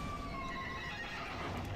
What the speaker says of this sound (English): That's a loud horse.